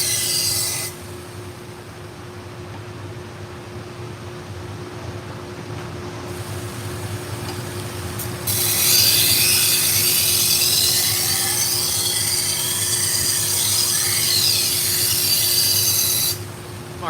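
A knife stroked along a sharpening belt or stone, a continuous rasping scrape over a low steady hum that grows louder and brighter midway through.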